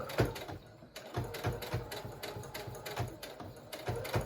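A sewing machine stitching around an elastic face mask, rapid rhythmic mechanical clatter in short bursts with brief pauses, close up and with no talking.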